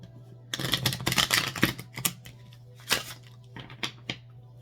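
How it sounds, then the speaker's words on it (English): A deck of tarot cards being shuffled hard, with bursts of riffling and slapping, then a few separate crisp taps and flicks close to the microphone. "I'm going to go ahead and do a hard shuffle here."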